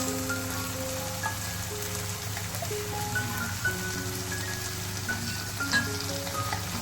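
Cashew paste going into hot oil with a fried spice mix for a Bengali curry makes a steady, even sizzle and crackle close by, continuous throughout with no talk.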